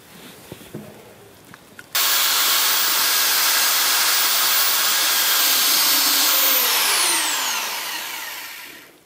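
A low-speed rotary mixer paddle churns pool waterproofing compound as liquid is added, starting after a few faint knocks with a loud steady whirring drone that holds, then winds down as the motor slows.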